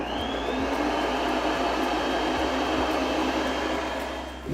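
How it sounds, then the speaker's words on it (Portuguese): An electric mixer beats meringue at maximum speed, a constant close whirring drone that stays even and loud from start to finish, with no speech. "Levo aqui a batedeira. Velocidade máxima."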